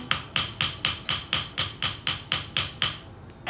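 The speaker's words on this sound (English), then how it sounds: "You can go ahead and give yourself a hammer texture with that side if you'd like." A goldsmith's hammer texturing metal in a metal fabrication class: about ten crisp, evenly spaced ringing strikes in a steady rhythm, close and clear, with no talking.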